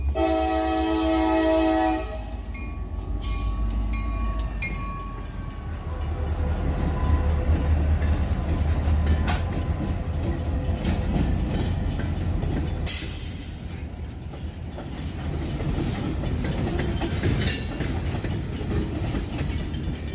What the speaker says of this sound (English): At last, 3099 can now cross the road with its train.